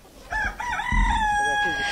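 Rooster-like crowing from a farm flock of 2,000 black chickens in a village: a loud, drawn-out crow fills most of the two seconds over low rumbling background noise.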